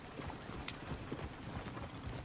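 Horse hooves clip-clop in a quick, uneven rhythm on hard ground in Red Dead Redemption 2, fairly close, alone and steady throughout.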